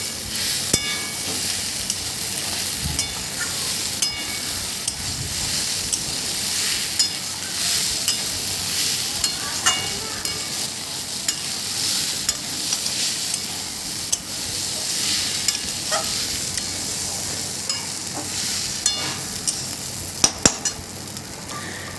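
Gobindobhog rice fries with spices in a pan while being stirred, a constant close sizzle with regular scraping strokes and occasional sharp clicks of the spatula, and no voices.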